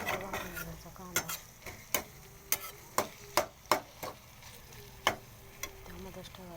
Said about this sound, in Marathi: चांगलं भाजून घ्यायचा कांदा